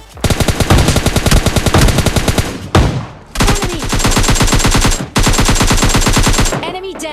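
Loud rapid automatic gunfire in PUBG Mobile Lite rattles in sustained bursts with two short pauses, close and dominant, with brief shuffling noise at the end.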